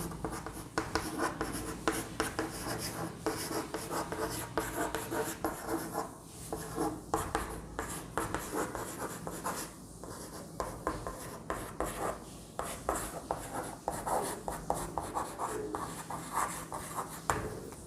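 During a history lesson, a teacher writes a name on a board: a close, continuous run of rapid scratching and tapping strokes with brief pauses between words, and no speech.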